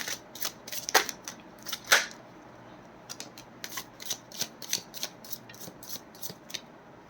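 Tarot cards are shuffled and snapped in a series of crisp, close riffling flicks, with two sharper bursts early and a quick run of lighter flicks afterward.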